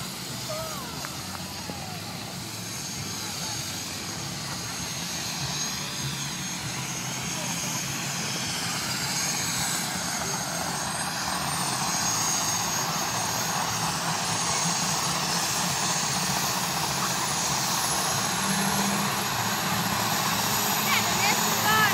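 National Guard helicopter taking off outdoors, its engine and rotor roar a steady, dense wash that slowly grows louder, with people talking faintly nearby.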